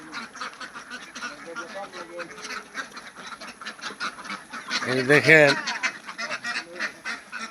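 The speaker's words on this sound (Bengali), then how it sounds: "হাঁস যে আমরা পালি আবদ্ধভাবে" Confined farm ducks quack loudly in a short burst mid-clip, with fainter duck calls and someone talking around them.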